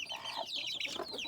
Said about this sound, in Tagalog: yung manok na yung kulot ng balahibo